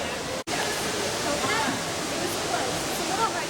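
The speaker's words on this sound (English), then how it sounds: "Why are they filling it up with water?" Water pours steadily into an enclosure at an indoor zoo, a continuous rushing hiss like a small waterfall, fairly loud and even, with voices faintly mixed in.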